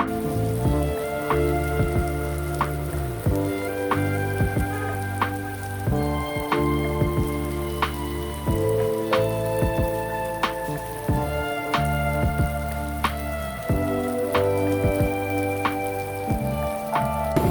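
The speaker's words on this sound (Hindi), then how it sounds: "बारिश तेज़ होती जा रही है" Heavy rain pours steadily onto a surface on a trip through northern Pakistan, a dense continuous patter with frequent sharp drip hits, loud and close throughout.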